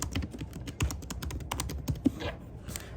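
Keys clack in quick, uneven bursts on a computer keyboard as a business name is typed, close to the microphone with no voices.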